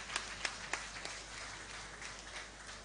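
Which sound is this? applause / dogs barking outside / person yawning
applause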